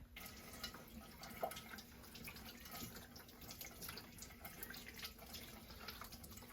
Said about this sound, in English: I'm going to rinse these off real quick.